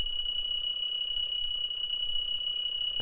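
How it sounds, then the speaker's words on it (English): A newly bought alarm clock keeps ringing in a visual novel game, sending out a continuous, bright electronic alarm tone at an even level from start to finish, alone with no talk. "Isn't that the new alarm clock I just bought?"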